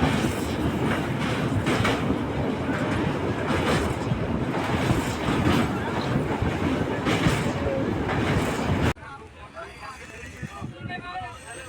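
A moving train on the Shalimar to Puri route, a loud continuous rumble with rhythmic clatter and wind buffeting for about nine seconds, then the noise drops to a quieter interior hum with a voice talking.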